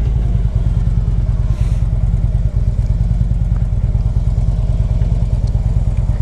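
A 2011 Harley-Davidson Ultra Limited motorcycle riding, its engine a steady, close, low rumbling drone with rhythmic pulsing throughout, moderately loud with a brief thump partway through.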